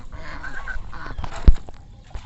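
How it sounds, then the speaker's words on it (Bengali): Ducks near a boat give nasal honking quacks, a few calls in a row with one louder close honk, over faint background noise. "হাঁস ডাকতেছে"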